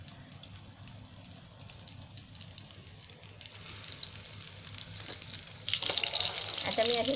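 Egg-and-breadcrumb-coated Schezwan chicken keema cutlets frying in a pan, the hiss and crackle growing louder and denser as the heat goes up, ending in a loud, bubbling sizzle.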